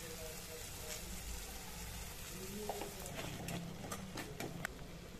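Masala spices sizzle and fry in oil in a pan for Punjabi rajma curry, a steady soft crackle with occasional stirring scrapes and clicks.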